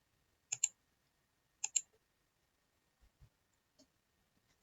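Computer mouse clicks during Fusion 360 modeling, two crisp close double clicks about a second apart, followed by a few fainter soft taps in an otherwise quiet room.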